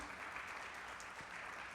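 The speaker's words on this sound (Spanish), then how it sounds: "le voy a pedir un fuerte aplauso para el Señor, para el Rey de Reyes y el Señor de Señores" A church congregation applauding during Sunday worship, a soft, steady patter of many hands clapping heard at a distance and fairly faint, with no voices over it.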